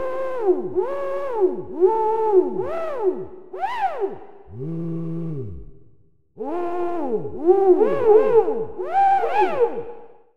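Santa Juicy, a free VST plugin, produces a string of bouncy, swooping synthetic tones with rising and falling pitch, some bright and chirpy, others lower and warbling, with a brief gap before the pattern resumes.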